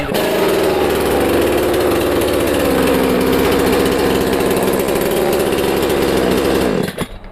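A powerful tree-felling chainsaw engine roars at full, steady loudness for about seven seconds with a dense rumbling buzz, then cuts off abruptly near the end; no talking.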